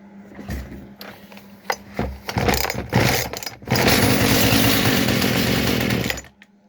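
A Husqvarna 240 chainsaw fitted with a new carburetor starts with a few sharp pulls and bursts, then settles into a loud, steady close engine run before cutting off.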